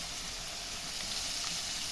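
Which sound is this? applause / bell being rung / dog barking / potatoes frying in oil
potatoes frying in oil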